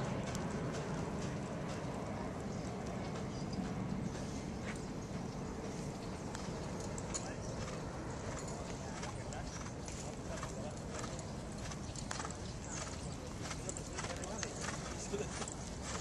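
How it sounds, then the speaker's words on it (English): A racehorse gallops out after a half-mile breeze at Hollywood Park, its hoofbeats a faint, steady drumming under a commentator's voice and broad track noise. "Gato Malo on his gallop out after a nice half mile breeze"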